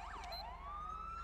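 Police car siren from an emergency lighting mod in a video game, a single steady rising wail sweeping upward and holding high, faint and alone over a low engine rumble.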